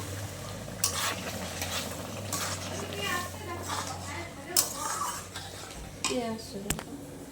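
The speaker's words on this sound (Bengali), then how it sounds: "এখন মা দিয়ে দিচ্ছে টমেটো কুচি, ভালো করে এটা কষিয়ে নেবে" Chopped tomatoes sizzle and are stirred in a pan, the spoon clattering and scraping against the metal in irregular bursts, with a low hum and faint voices in the background.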